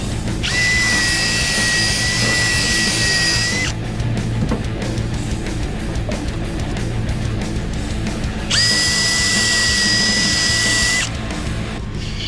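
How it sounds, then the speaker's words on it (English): A power tool grinds rust off a box truck camper down to bare metal, two long high-pitched whining bursts with a lower gritty rumble between and under them, close and loud. "Gotta get all this rust out of it."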